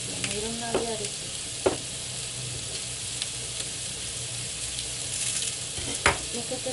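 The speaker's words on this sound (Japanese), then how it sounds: "焼けてる音。" Food sizzles steadily in a hot pan, close and constant, with a few faint clicks and brief vocal sounds over the frying.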